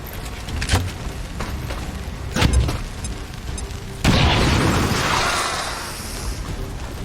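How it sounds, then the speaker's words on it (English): A grenade goes off in the video game XCOM 2 as a loud boom followed by a long rushing, crackling roll of debris and noise that fades over a few seconds, after a couple of smaller thumps. "Grenade out."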